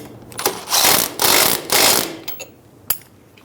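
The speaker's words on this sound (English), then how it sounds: "Snug the nut down." A ratchet snugs down the ball joint nut on a 2000–2007 Ford Focus, three loud bursts of rapid ratcheting clicks up close, followed by a few softer clicks and a sharp metallic tap.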